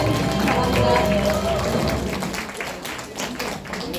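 Crowd at a neighborhood film festival award ceremony clapping for the winners: a broad wash of applause that is loudest at first and gradually eases off, with some voices mixed in.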